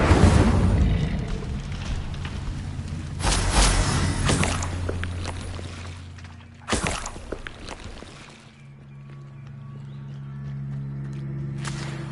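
Incendio fire spell blasts in a wizarding video game, loud roaring whooshes of flame that flare up at the start and again midway, then die back to a quieter hum.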